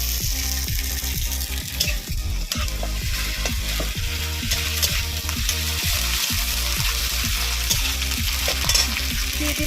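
Ginger paste frying with onions and garlic paste in a pan, a continuous close sizzle with rapid, rhythmic scraping strokes of a spatula repeating throughout.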